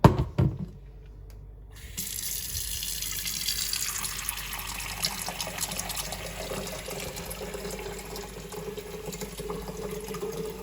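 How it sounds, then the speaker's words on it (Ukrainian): After a couple of clicks, water runs from a tap and pours steadily into an electric kettle, the rushing sound rising in pitch as it fills. "Так, тепер наливаємо воду."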